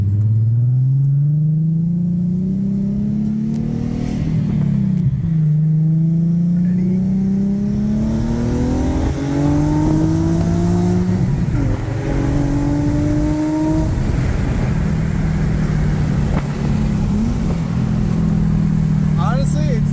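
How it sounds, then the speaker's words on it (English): Project car engine rising through the revs toward high RPM in repeated climbing pulls with gear-change dips, a loud close rumble that turns into a rising whine. "It revs really, really high, and honestly, I think that they sound good."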